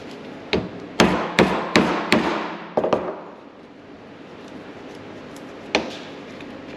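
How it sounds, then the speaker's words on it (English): Sharp, loud hammer blows strike sharpened, chamfered tubing to punch holes for a Silverado truck improvement, landing in an uneven series of a dozen or so close impacts with pauses between. "to punch out these holes, I took an old piece of tubing"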